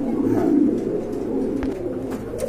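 Pigeons cooing close by, low soft throaty coos that roll continuously, with a few faint clicks and rustles scattered through.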